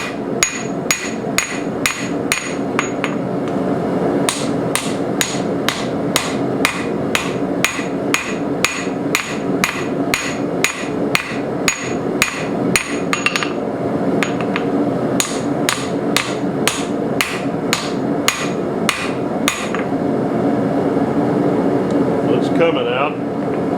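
Steady, ringing hammer blows on a hot cut chisel held at an angle on a blacksmith's anvil, struck in a long rapid series with a brief pause midway, loud and close over a constant background hum.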